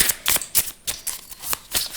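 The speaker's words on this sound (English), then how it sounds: "So I'm shuffling the cards" Tarot cards being shuffled by hand, a run of crisp, papery riffling bursts in an uneven rhythm, close and fairly quiet with brief pauses between them.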